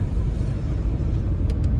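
A 2015 Audi A4 B8 S-Line with the 2.0 TDI diesel on 18-inch wheels, driving along a road: steady low cabin rumble of tyres and engine, fairly loud and continuous, with a couple of faint clicks near the end.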